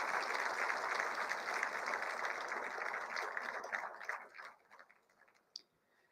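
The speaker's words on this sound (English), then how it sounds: "a big round of applause for our keynote speaker" A conference audience applauding a keynote speaker, dense steady clapping that thins out and fades to scattered claps near the end.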